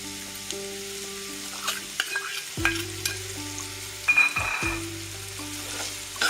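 Chopped raw mango fries in a pan for methamba, a steady close sizzle broken by occasional spoon stirs and clinks, with background music running underneath.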